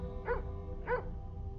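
Two short dog barks in a video game, A Sceptic's Guide to Magic, spaced about half a second apart over a steady low background hum, fairly clear and alone.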